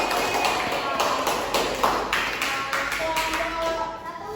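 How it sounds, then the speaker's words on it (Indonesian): A group of students clapping in a classroom, a scattered patter of hands that fades slightly toward the end, with some voices mixed in. "tepuk tangan dulu untuk kelompok"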